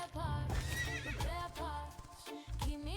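Wild horse in The Quinfall video game neighing loudly and repeatedly at close range, with snorts and clip-clopping hooves mixed in.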